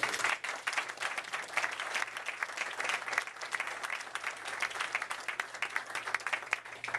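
Audience applause for a committed research ship crew at a public event on the Lake Winnipeg cleanup, a sustained, moderately distant wash of many hands clapping, fairly even throughout.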